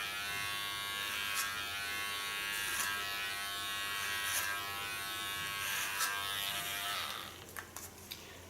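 Small electric hair clipper buzzing steadily and close while used on a short pixie haircut, a continuous whine with slight strokes, cutting off near the end.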